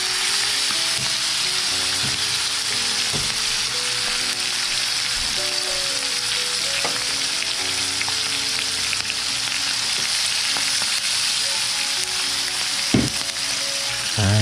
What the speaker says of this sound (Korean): 여기에 싹 볶아야지, 제대로.